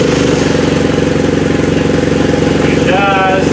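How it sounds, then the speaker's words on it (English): A BMW F800GS motorcycle engine runs at a loud, steady idle right after starting, fitted with a K&N air filter, with a short whistle-like tone near the end. "let's turn on the bike and make sure it works"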